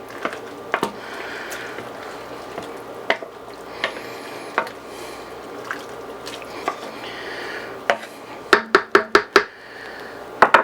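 Stirring Mexican beef stew (carne guisada) with potatoes in a pot: a steady wet, thick bubbling and scraping texture, punctuated near the end by a quick series of sharp knocks as a spoon taps the pot's rim.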